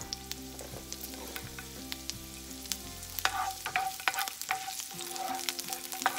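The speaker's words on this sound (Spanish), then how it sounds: "Vamos a agregar la cebolla para que se guise un poquito." Chopped onion sautéing in olive oil in a pan, a soft continuous sizzle with scattered scraping and stirring clicks, close and fairly quiet, with a low steady hum underneath.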